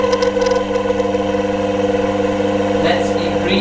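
A small DC motor spins steadily, giving a constant whining hum with stable tones and a faint mechanical rattle, while a voice talks over it.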